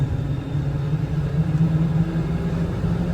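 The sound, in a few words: Ford F550 6.7 Powerstroke turbo diesel truck accelerating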